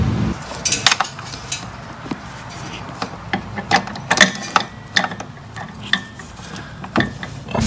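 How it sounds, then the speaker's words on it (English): Metal washer being fitted onto a new rear hub of a Honda Civic, giving a run of sharp, close metallic clinks and taps at irregular intervals over a low background hum, with no talking. "I'm taking this washer from the old one and gonna fit it on here and then fit it through the hole."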